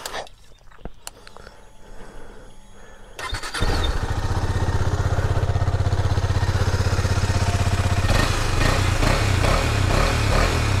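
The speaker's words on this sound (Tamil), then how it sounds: "உங்களுக்கு எக்ஸாஸ்ட் நோட்டை நான் காட்டி தந்துட்டு" KTM Duke 250 BS6 motorcycle starting up close by, quiet handling sounds giving way to a loud, steady, throbbing single-cylinder exhaust note at idle, with a brief blip of revs near the end.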